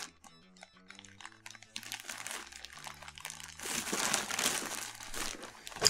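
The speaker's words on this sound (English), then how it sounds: "now we've got some various pieces here to unwrap and unravel" Wrapping paper crinkles and crunches as items from an August 2020 Zag subscription box are unwrapped, close rustling that starts sparse with light taps and builds into busier, denser crumpling.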